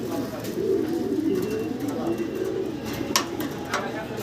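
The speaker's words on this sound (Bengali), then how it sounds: "ভাইয়ের কাছে house pigeon, Hungarian house pigeon red কালারের ভিতরে" Red Hungarian house pigeons give a continuous low, throaty cooing close by, with a few sharp clicks and knocks scattered through.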